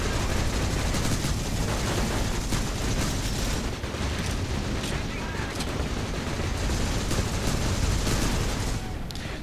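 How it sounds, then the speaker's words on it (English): Gunfire crackles through the space shooter Shattered Horizon, with a steady dense stream of rapid shots and bursts, including a player's oxygen tank blowing up, loud and continuous for the full stretch with no clear pauses. "That was a tank shot, meaning that I shot him right in his oxygen tank and blew it up, which is pretty cool looking"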